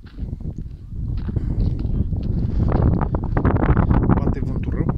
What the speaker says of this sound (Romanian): Bate vântul rău.